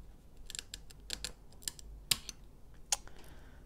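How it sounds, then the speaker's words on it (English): Cutters snipping a cable while a Fox Transfer dropper post is installed on a bike, with a handful of sharp, close clicks and snaps spread over a few seconds with no talk. "I'm gonna try to snip a little bit more here."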